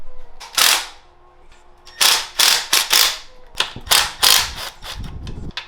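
A ratchet loosening the bolts on a Whipple supercharger lid on a Gen 3 Coyote engine, a series of sharp, close cracks as each bolt breaks free, followed by quick ratcheting clicks.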